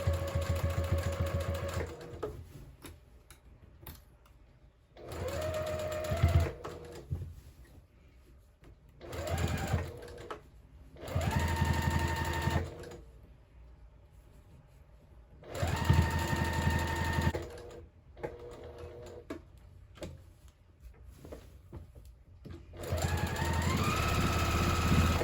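A sewing machine runs top stitching around a patchwork receiving blanket at a longer stitch length, in several separate bursts of whirring with quiet pauses between them and no speech.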